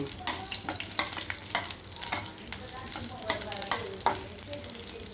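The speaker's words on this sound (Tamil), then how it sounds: "கடுகு பொரியணும்" Mustard seeds and dried red chillies fry in a little oil, giving a steady close sizzle broken by frequent sharp pops and crackles of seeds bursting, with occasional stirring scrapes and no talk.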